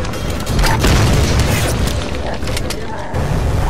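Grenade explosions in the Tomb Raider video game, heavy booming bursts rolling into one another with dense low rumble and clatter, loud and sustained throughout.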